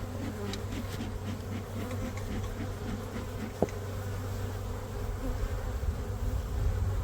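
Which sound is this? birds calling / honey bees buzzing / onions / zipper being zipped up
honey bees buzzing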